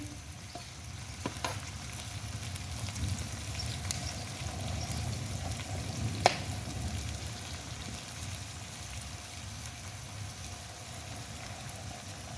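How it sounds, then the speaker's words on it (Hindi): Onions frying toward golden brown for mutton biryani, a steady low sizzle and crackle holding evenly throughout with one faint sharp tick midway, no voices. "प्याज जो है हम बहुत अच्छी तरीके से गोल्डन ब्राउन कर लेंगे"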